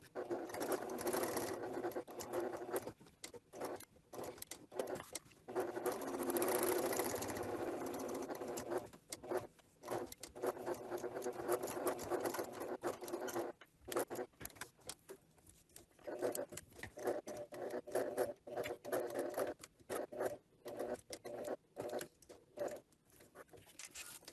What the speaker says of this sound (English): I'm back from the sewing machine and I have completed my decorative stitch along the top curve of my pocket